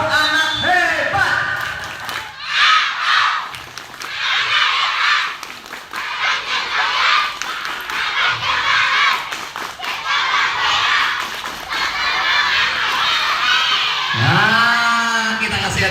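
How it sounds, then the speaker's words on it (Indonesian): Schoolchildren perform the 'tepuk anak hebat' clapping chant at an elementary school, rhythmic group clapping in repeated bursts with chanting voices over crowd noise, a voice speaking near the end. "Nah, tepuk anak hebat."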